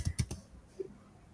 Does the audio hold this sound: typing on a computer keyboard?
yes